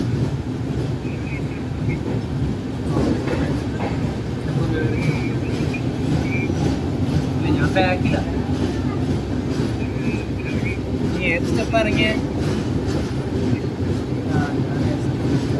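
Kerala Express (12626) pulling out in its sleeper class carriage: a steady, loud low rumble of the moving train with light wheel clicks and rattles over the track, and a murmur of voices in the background.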